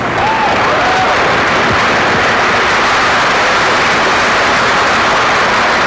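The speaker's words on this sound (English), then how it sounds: "Let's give a nice round of applause for Larry Fullstitch." Dense, steady applause from a crowd at a 1982 Plymouth basketball celebration honoring the 3A state champions, loud and continuous throughout with a faint whistle near the start.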